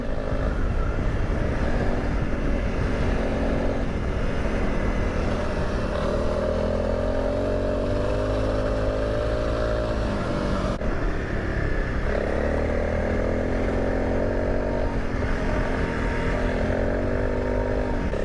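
A motorcycle ridden along a road in a former Kumeyaay travel corridor, its engine droning steadily with shifting revs and heavy wind and road noise throughout, no voices.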